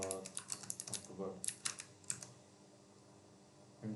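Quick bursts of typing on a computer keyboard as a name is entered into a campus app form, crisp close clicks in short runs, then a quieter pause.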